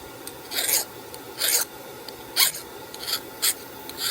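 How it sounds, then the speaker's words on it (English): A hand file rasps across the hardened steel of a handmade skinning knife blade near the tip after heat treatment, in five short, distinct strokes at a steady pace, close and clear with quiet pauses between them. "That file's just bouncing right off."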